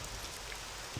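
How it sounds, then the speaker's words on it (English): Steady rain falls across the world of The Elder Scrolls III: Morrowind, a soft continuous hiss with low rumbling texture and no voices. "it's raining and everything is horrible and stuff"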